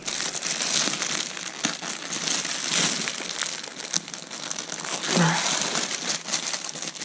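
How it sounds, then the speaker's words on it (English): Packaging for a toy glider being torn open by hand, a close, continuous crinkling and crackling of plastic with a few sharper rips in between. "I'm just gonna try and rip this open."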